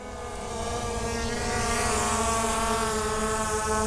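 A Skydio 2 Plus drone flies nearby, its propellers giving a steady, loud, harmonic buzzing whine that swells slightly and holds level with no talk.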